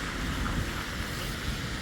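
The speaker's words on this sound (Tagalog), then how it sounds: "At ang lakas ng hangin." Steady, strong winter wind in Helsinki roaring and buffeting the microphone, a constant rushing noise with no voices.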